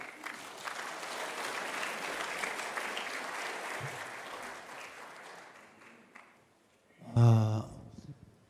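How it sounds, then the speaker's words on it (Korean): Sustained applause from a seated audience at an elders' continuing-education gathering at a Seoul church, steady for about six seconds before fading, followed by a brief loud bump near the end. "나오실 때 큰 박수로 맞이해 주시면 감사하겠습니다."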